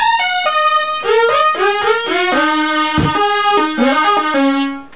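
Bright, buzzy Memorymoog synthesizer tones in polyphonic mode playing a quick run of overlapping notes, several sounding at once, loud and up close with no voices.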